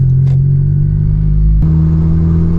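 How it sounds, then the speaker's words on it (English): Loud, steady low engine drone with a buzzing tone inside a Honda Civic Type R FK8 under throttle after a PRL flex fuel kit install, with a faint click and a slight shift in pitch partway through. "Anytime the throttle is applied, it's making this like buzzing sound."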